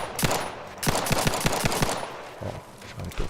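Rapid bursts of gunfire aimed at a Mega Mantis in the video game The Outer Worlds 2, several volleys of close, loud shots in quick succession with short pauses between them.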